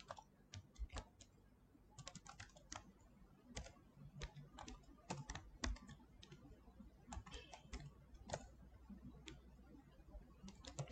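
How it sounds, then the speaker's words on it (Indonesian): Someone types code on a computer keyboard in a Python Google Colab session. The key clicks come quick and irregular in close, quiet bursts with short pauses, and nobody speaks. "Kita ketik dulu data kodenya."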